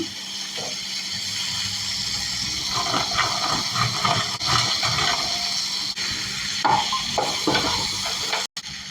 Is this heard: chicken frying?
yes